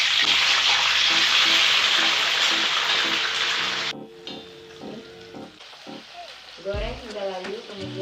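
Curly red chilies fry in hot oil with a loud, dense sizzle for about four seconds, then the sizzle drops to a softer crackle as a spoon stirs and clanks in the pan.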